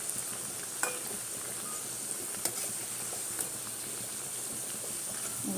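Food sizzles steadily in hot oil in a home kitchen pan, a constant close crackling hiss with a few brief sharper pops and stirring clicks, no talking.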